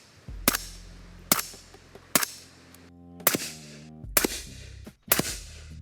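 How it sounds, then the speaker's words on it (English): Six sharp, muffled gunshots from a suppressed rifle at roughly even intervals, each a short crack with a brief ringing tail. "We're going to test the sound signature of all of these guns."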